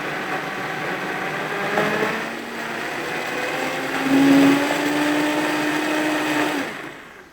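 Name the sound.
blender blending warm soup ingredients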